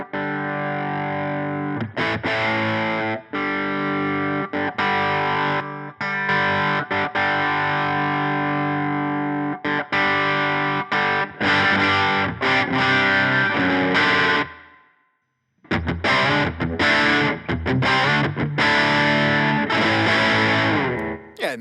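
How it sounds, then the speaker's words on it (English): Bass tone from a Strymon effects pedal, a sustained, driven and distorted bass line played in long phrases with a brief silent gap before it resumes, loud and close with no talking. "Let's start with a bass tone from the Strymon."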